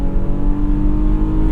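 A 2022 Infiniti QX60's V6 engine in sport mode revs hard toward its 6,500 RPM redline, a loud sustained drone with steady harmonic tones heard from close by, no talking.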